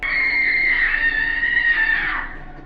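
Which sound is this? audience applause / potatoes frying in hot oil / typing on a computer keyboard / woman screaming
woman screaming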